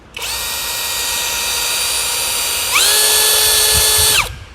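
A 3-mode cordless drill boring into hardwood, a loud, close, high-pitched motor whine that holds steady, then jumps to a higher speed for its last stretch before stopping abruptly.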